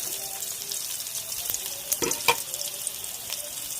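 Onion, green chili, curry leaves and mustard seeds crackle and sizzle in hot oil in a pan for vegetable kurma, a steady fry with a couple of sharper pops and spatula scrapes midway.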